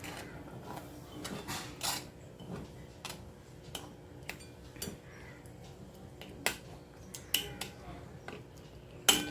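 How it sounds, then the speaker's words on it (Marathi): Milk is stirred into a green pea halwa mixture in a pan, heard as quiet, irregular clicks and taps of a spoon against metal over a faint background. "दूध टाकून टाकून हे सर्व मिक्स करून घेऊया मिश्रण"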